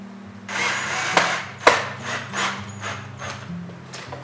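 A drill drives 1¼-inch pocket hole screws into clamped wood joints of a farmhouse table, giving short whirring runs that end in sharp, close clicks as each screw grabs.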